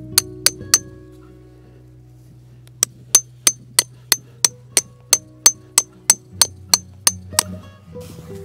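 Sharp metallic hammer strikes driving a tent stake into the ground, three quick blows then a steady run of about fifteen evenly spaced hits, close and loud, over a low hum.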